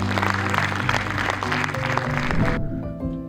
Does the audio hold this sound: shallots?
no